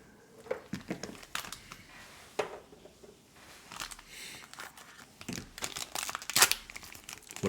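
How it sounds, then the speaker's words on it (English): Scissors snipping and crinkling through the packaging of a Japanese surprise box, with repeated close crackles, rustles and tearing bursts in an irregular rhythm and no talking. "there's no sneaking into these. All right, scissors it is."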